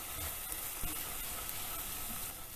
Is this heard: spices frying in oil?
yes